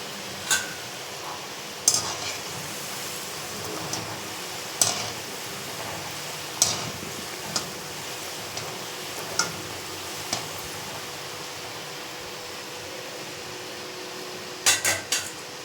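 Seedai frying in oil over a low flame, a steady soft bubbling hiss with occasional faint clinks of a utensil against the pan, close and continuous.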